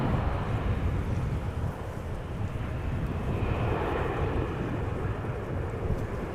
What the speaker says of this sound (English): Embraer is arriving. 175 arriving from Berlin.